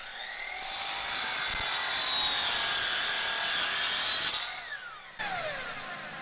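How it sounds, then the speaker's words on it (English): A compound miter saw cuts a 25-degree bevel through a T-bar, whining loudly for about four seconds before spinning down, then giving a short second burst as it winds down again. "we can cut a bevel on that T-bar"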